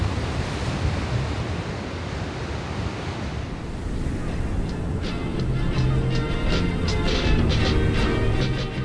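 Ocean surf breaking at a North Sea surf spot, a steady loud wash of waves with wind noise across the microphone, the crashing growing fuller in the second half.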